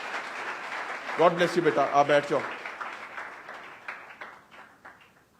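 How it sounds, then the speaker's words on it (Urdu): Church congregation of about 250 people gives loud applause, building into a wash of clapping under someone speaking warmly over a microphone, then tapering off. "میں چاہتا ہوں اس کے لیے بھی ہم زوردار تالیاں بجائیں گے"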